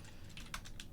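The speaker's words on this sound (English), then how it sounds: "I can actually manually type them all out if I want." Quick, soft clicks of fingers tapping a computer keyboard, several keystrokes in a brief, irregular burst, faint and close with no talking.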